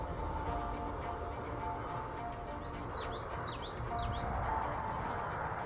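Yellow-rumped warblers chip and trill faintly amid steady outdoor ambience in Arizona, with a brief cluster of high calls in the middle.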